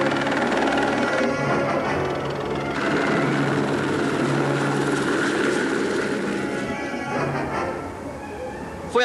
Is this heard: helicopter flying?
yes